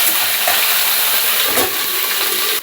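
Water pours steadily into a mixer grinder bowl as it is rinsed out in a home kitchen, a continuous close rushing wash that runs without pause and cuts off abruptly at the end.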